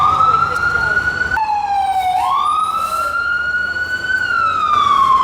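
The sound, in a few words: emergency vehicle siren in the city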